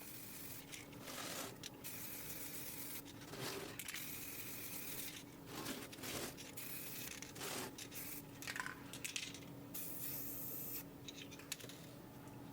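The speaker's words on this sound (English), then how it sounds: "I'm lightly spraying each side, leaving the paint to dry for the recommended time" Spray paint hissing from an aerosol can onto an automaton head's hair in short, repeated bursts with brief pauses between, soft and close, no voices.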